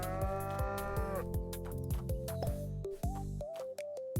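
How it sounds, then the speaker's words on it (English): A cow moos repeatedly in a video game, with long drawn-out lowing calls set over steady game music that keeps playing throughout, and no talking. "And possibly enslave a cow."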